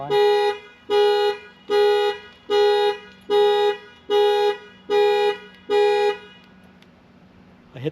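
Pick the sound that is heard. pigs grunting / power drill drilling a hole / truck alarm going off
truck alarm going off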